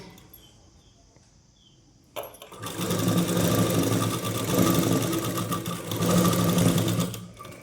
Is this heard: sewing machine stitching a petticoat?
yes